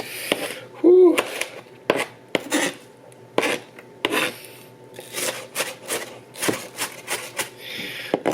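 A kitchen knife dices onion on a cutting board for a potato pizza, with irregular crisp scraping and tapping strokes, close and moderately loud, and a brief voice-like sound early on.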